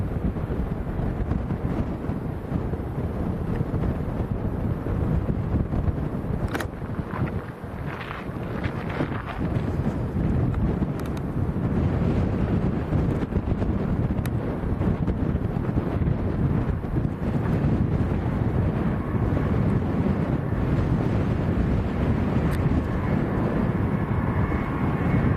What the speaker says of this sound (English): the wind's coming from right to left